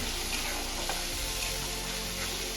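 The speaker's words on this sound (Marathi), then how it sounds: "इथे आपल्याला चटणी छान परतून घ्यायची आहे म्हणजे यामध्ये असेल कच्चापणा पूर्णपणे निघून जाईल" Chutney masala with turmeric sautés in a pan, giving a dense, continuous sizzle close by with faint stirring scrapes and no voices.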